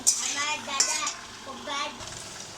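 Potatoes frying in a pan at home: a low sizzle under bright clinks and scrapes of utensils against the pan, with a voice and other talk audible in the background.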